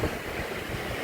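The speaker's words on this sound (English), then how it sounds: "There are days that are windy," Strong Chinook wind gusts across remote Alaska, a steady, loud roar that buffets the microphone throughout, with no voices.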